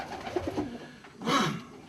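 Fancy pigeons in a loft pen cooing softly, a few low throaty coos followed by a louder burst, close by with faint background noise.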